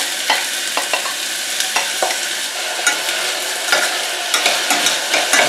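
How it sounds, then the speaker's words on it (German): Onions and pointed pepper sauté in clarified butter in a pot, a steady crackling sizzle with repeated sharp scrapes and clicks of stirring, close and alone without talk. "In den Topf kommen jetzt Zwiebeln und die Spitzpaprika."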